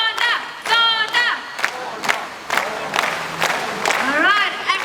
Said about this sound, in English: I need you to clap your hands. And you shout, Zonda, Zonda, Zonda.